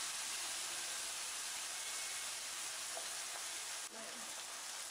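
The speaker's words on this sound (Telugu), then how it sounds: "ఇలా ఫ్రై చేస్తున్నప్పుడు మంచి స్మెల్ వస్తుంది." Masala paste with onions and tomatoes fries in a pan for a pomfret fish curry, giving a soft, steady sizzle and hiss throughout with a faint stir near the end.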